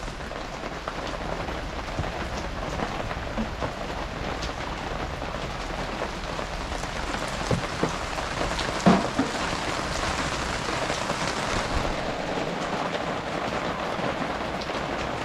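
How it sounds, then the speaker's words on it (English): Rain falls steadily on outdoor surfaces with a continuous patter of drops, moderately loud and even throughout, with a faint distant rumble partway through and no voices. "Rain's slowing down."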